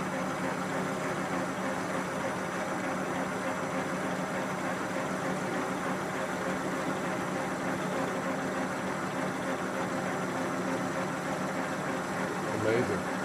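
A lathe spinning at high speed while an inverted cut-off tool parts the workpiece gives a steady, even mechanical hum with a faint whine, continuous and without chatter.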